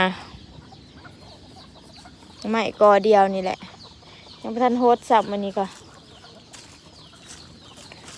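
Chickens cluck in a few short bursts at a rural Thai spot, close and fairly loud, while a person talks quietly between and under the clucking.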